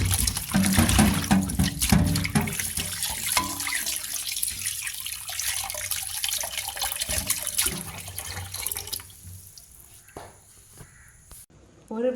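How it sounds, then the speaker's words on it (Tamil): Bilimbi fruit is washed under a running tap, with water splashing and pouring loudly at first, then easing off into quieter, intermittent trickles and handling noises. "வெளிமாங்காவை நல்லா கழுவி எடுத்துக்கோங்க."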